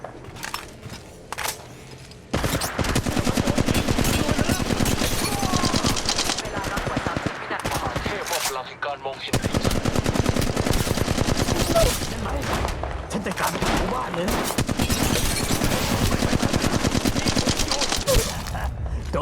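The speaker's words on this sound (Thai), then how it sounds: "กำลังยิงต่อสู้ กำจัดศัตรู" Rapid automatic gunfire in the mobile battle royale game Apex Legends Mobile, dense bursts of shots over long stretches with brief pauses, loud and close, with faint talk underneath.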